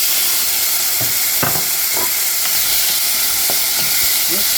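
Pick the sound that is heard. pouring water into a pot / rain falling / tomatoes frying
tomatoes frying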